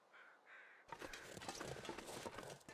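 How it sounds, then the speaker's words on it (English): Crows caw in a sandbox survival video game, a few harsh calls followed by dense, loud, noisy game ambience. "I'm hearing crows over there."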